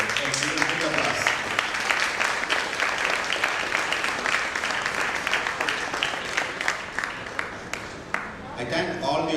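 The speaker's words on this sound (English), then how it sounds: "So, give a big applause." Delegates applaud at a radiation oncology medical conference, a long continuous burst of many hands clapping in a hall, fairly loud and steady, with some voices mixed in toward the end.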